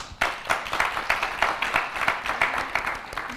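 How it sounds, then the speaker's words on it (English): A crowd at a travel industry event claps in a quick poll: sustained, fairly loud applause from many hands that starts abruptly and holds steady with a busy, rippling rhythm. "Clap if you think it's bad."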